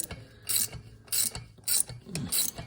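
A ratchet drives an exhaust stud into the engine head of a Honda TRX250X all-terrain vehicle, giving five evenly spaced bursts of rapid clicking, close and loud, with quiet pauses between strokes.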